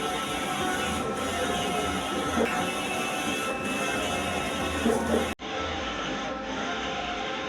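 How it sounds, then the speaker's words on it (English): Inkjet printer head sliding back and forth as the machine finishes printing a 3x4 photo, a steady mechanical whirring rumble that cuts off abruptly and resumes more quietly. "the printer head the machine will finish printing"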